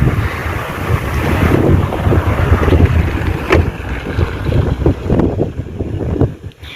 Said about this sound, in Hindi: हमारे एरिया में और इस्लामाबाद में तो बहुत ही तेज़ हवा है